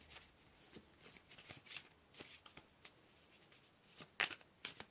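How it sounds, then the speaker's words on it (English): Tarot cards being shuffled close by in quiet, soft bursts of riffling and slapping, irregular taps and flutters with brief pauses, faint and without talk. "let's go ahead and pull some tarot here"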